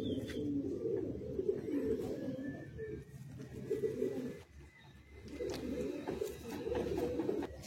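Loft-kept Kalsira Madrasi high-flying pigeons coo in close, throaty waves that fade and return several times, with a few sharp clicks and faint chirps scattered over the low chorus.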